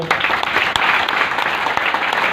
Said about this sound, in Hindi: थोड़ा ताली बजा सकते हैं।